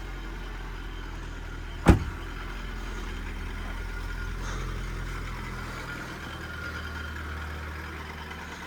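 A Honda Civic engine with a failing bearing runs steadily at close range, a low continuous hum with one sharp knock near the start and no voices.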